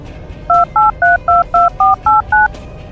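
Eight evenly spaced telephone keypad tones beep in a steady rhythm, each a clean dual-pitch blip, close and clear over low room noise.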